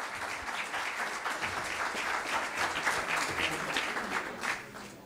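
A round-table audience at a national biochar conference breaks into sustained, dense applause, with many hands clapping at an even loudness throughout and no voices over it.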